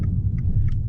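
Low, throbbing engine rumble from a 2016 Abarth 595 hot hatch, heard from inside the car as a steady deep drone with faint higher tones on top.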